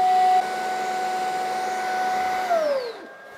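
Dreame H14 Pro wet-dry vacuum running its brush-drying cycle with a steady whirring motor hum and a constant tone, which winds down with a falling pitch near the end.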